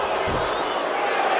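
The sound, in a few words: crowd reacting in the WWE 2K25 video game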